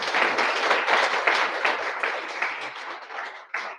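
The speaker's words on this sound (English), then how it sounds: "I'd love to give them a round of applause." Audience at the first London meetup for Bittensor (TAO) applauds the speakers, a dense, steady burst of clapping that stays loud before thinning out near the end.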